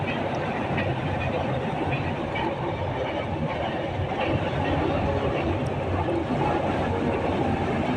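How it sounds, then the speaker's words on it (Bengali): A train rumbles past nearby with a continuous heavy roar and faint rhythmic clatter of the cars, steady throughout. "ট্রেন যাচ্ছে ওটা ভিডিও করলাম"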